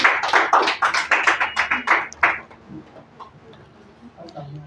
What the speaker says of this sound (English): So give a huge round of applause for Mr.